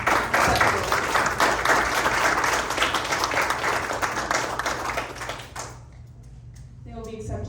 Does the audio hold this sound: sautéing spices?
no